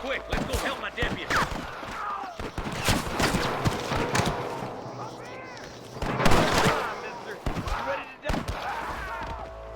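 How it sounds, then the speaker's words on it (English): Sharp gunshots in a Red Dead Redemption shootout, several cracking reports spread across a busy game scene with horse hooves and characters talking over them. "I can hear more gunshots."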